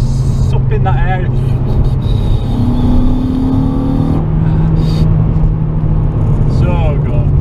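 A Honda Civic Type R with an HKS exhaust accelerates on open country roads, heard from inside as a loud, rising engine drone that shifts pitch through the gears, with someone talking over it.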